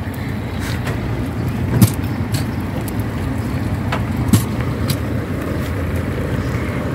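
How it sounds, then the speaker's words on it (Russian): Airport bus in Antalya idling or rumbling nearby, a steady low engine drone with wind-like background noise and a couple of brief knocks, no talking. "Это автобус от аэропорта"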